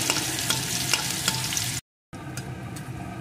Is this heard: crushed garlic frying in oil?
yes